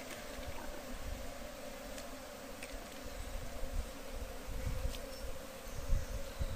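Italian honey bees buzzing in a steady, dense drone during a honey harvest, with a close swarm hum that swells slightly and carries no talk.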